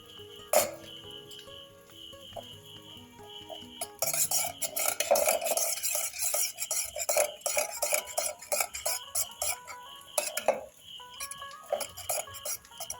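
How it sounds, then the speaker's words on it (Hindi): A cracked egg being whisked with salt in a bowl: after a quiet start with one sharp knock, rapid rhythmic clinking and scraping of a utensil against the bowl runs continuously, close and clear. "अब हम इसमें थोड़ा सा नमक डालकर इसे और अच्छे से मिक्स कर लेंगे।"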